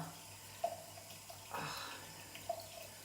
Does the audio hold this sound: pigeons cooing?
no